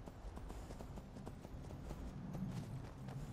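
Horse hooves walking in the video game Skyrim, a steady, faint clip-clop of hoofbeats under a continuous low background, with no talking.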